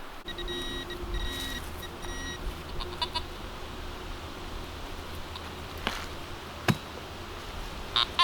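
A metal detector sweeps over ground where nails lie, giving repeated electronic beeps and tones against a steady hiss of faint background noise, with a couple of sharp knocks near the end.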